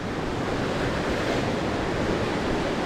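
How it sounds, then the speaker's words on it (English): The Skagit River in North Cascades National Park rushes past at sunset, a constant broadband roar of flowing water with some wind buffeting the microphone, steady and unbroken. "we'll take one last parting shot of the Skagit River at sunset"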